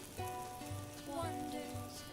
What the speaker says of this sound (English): So the onions are sauteing nicely.